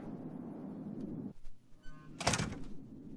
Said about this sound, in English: JT picked the door.